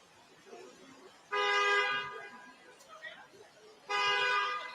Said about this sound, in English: That's the honking of the cars in New York City.